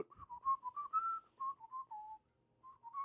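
Someone whistles the short, bouncy Steamboat Mickey tune alone, the clear notes rising and falling in quick phrases with a brief pause near the end.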